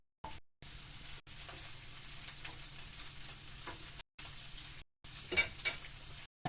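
Meat sizzles and fries steadily in a pan as part of a long-simmering perpetual stew, a continuous crackling hiss broken by a few short silent gaps, with no talking.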